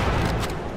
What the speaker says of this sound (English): Throw the grenade. There, aha, that's an excellent grenade bomb.